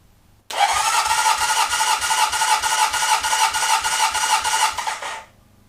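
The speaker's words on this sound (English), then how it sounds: "The starter motor does work." The starter motor of a barn-find Honda CB750 motorcycle, its cylinder previously seized, cranks for about five seconds. It makes a loud, steady whirring grind with a regular pulsing rhythm, then stops abruptly, with no talk over it.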